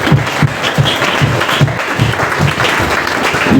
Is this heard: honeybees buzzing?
no